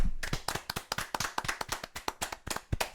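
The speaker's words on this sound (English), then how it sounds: "Everybody clap." A small group of people clap together in a loose, fast rhythm, sharp close hand claps repeating steadily for a few seconds with no talking.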